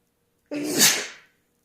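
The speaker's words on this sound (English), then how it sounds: "I'm going to sneeze, I think." A single loud sneeze, close up, with a sharp burst that fades within about a second, then silence.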